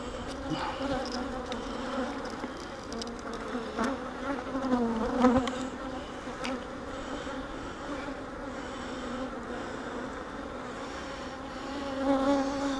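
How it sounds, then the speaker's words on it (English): A dense, steady hum of many honey bees buzzing up close on comb, with individual insects droning louder as they pass, continuous and without speech. "there's a bunch of bees on there"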